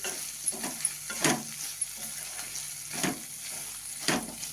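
Grated paneer sautéed in butter with cooked vegetables gives a soft, steady sizzle, with a few sharper scraping stirs spaced through it. No one speaks.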